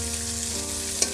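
Chopped onions sizzle hard in hot oil with browned garlic, a dense continuous fry close up with a single sharp clink near the end.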